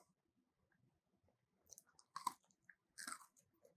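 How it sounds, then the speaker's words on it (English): Crunchy bites and chewing on a pepper-flavored meat stick, several close, brief crunchy bursts after quiet rustling, with no talking. "Good crunch."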